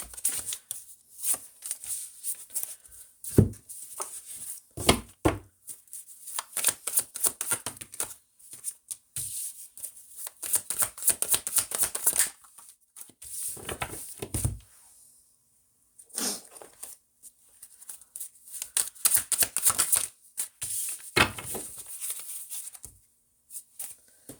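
Shuffling a deck of crystal cards in repeated bursts of riffling and flicking, separated by short pauses, close and crisp.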